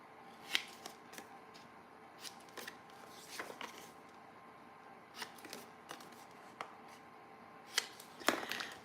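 Scissors snip the corners off paper tags, a series of faint, sharp clicks and cuts scattered irregularly against a quiet room.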